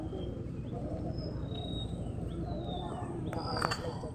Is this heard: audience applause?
no